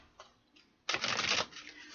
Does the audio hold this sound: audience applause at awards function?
no